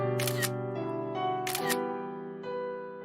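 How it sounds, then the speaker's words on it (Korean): Camera clicks heard twice, a short bright burst and then another about a second later, sounding over a steady held musical tone at a wedding photo moment. "사진 찍겠습니다. 하나, 둘, 셋, 찰칵."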